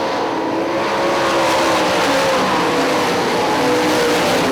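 Sprint cars racing three wide at Hartford Speedway Park, a steady loud roar of engines droning continuously with overlapping pitches as the pack runs through the turns.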